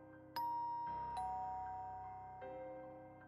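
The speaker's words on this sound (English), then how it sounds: "interrupted by a chime from my mellow doorbell" A mellow doorbell chime plays a few gentle tones in sequence, each ringing out and slowly fading in a quiet room.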